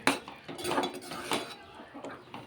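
A utensil scrapes and clinks against a pan while tomato paste is stirred into broccoli curry, giving several close, uneven scraping strokes with no talk.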